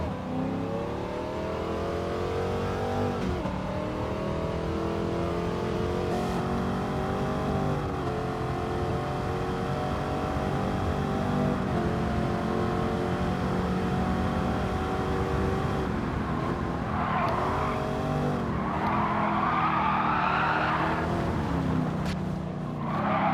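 A De Tomaso Mangusta in Gran Turismo 7 runs a hot lap with traction control off: a steady, loud engine drone that rises and falls through gear changes, with harsher revving near the end.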